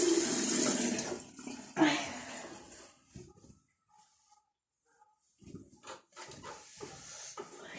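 Running water from a tap splashes as a face is washed during a skincare routine, loud at first, then fading into quieter dripping and splashes with brief soft sounds in between.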